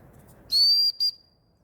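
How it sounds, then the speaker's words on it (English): A high, shrill whistle is blown twice: a longer blast followed by a short one, close and loud against quiet background. "I got a whistle, it's the wrong whistle though."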